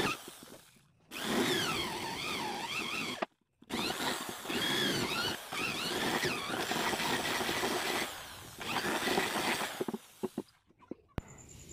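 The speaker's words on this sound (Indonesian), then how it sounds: "kita pahat menggunakan mesin bor" An electric drill with a 1 cm bit whines and bores into wood in several long bursts, its pitch rising and falling under load, with brief pauses between runs.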